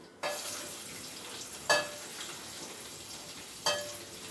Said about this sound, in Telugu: ఆనియన్స్ ముక్కలు వేసేస్తున్నా